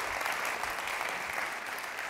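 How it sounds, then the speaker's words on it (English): A TEDx audience at Connecticut College claps for the event organizers, a brief, steady burst of many hands heard at a moderate distance and fairly quiet, with no voices on top. "Round of applause for the organizers."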